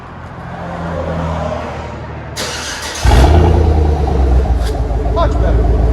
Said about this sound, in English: So we took the muffler, did a muffler and resonator delete basically.